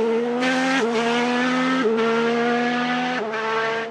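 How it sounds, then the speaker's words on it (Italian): A Ferrari Formula 1 turbo engine with its wastegate valve venting exhaust gases gives a loud, close, continuous harmonic drone that steps in pitch a few times, with no talk over it. "Questa valvola si chiama wastegate. Ancora oggi esiste in Formula 1 e sentite che godimento il rumore che fa."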